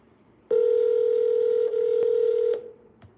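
A single sustained ringback tone on an outgoing phone call, steady and clear for about two seconds, with a faint click near the end.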